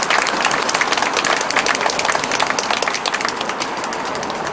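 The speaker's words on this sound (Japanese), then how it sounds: "皆さんの拍手で、共に戦う決意とですね、感謝の拍手を送っていただければと思います。" An outdoor crowd at a political protest rally breaks into sustained applause, dense, close clapping that holds steady for several seconds before tapering slightly.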